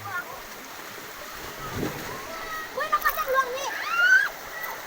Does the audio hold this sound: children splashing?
yes